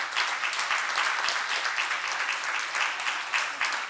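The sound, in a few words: congregation applauding in welcome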